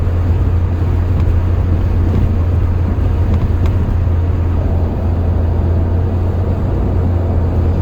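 A 2004 Pontiac Vibe with worn linkage and bushings accelerates on the road, a steady low engine drone with road and wind noise heard from inside the car.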